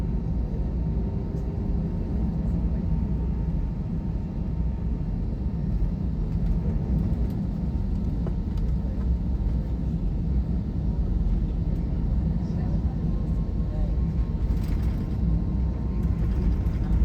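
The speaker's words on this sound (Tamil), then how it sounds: "நம்ம ஃப்ளைட் அப்படியே மெதுவாக உருண்டு போகுது. அதாவது இதை தேடி, ரன்வே தேடி மெதுவாக போய்கிட்டு இருக்கு." An airliner rolls slowly along the airport taxiway toward the runway, heard from inside the cabin as a steady low rumble of engines and fuselage noise that lasts throughout, with no voices.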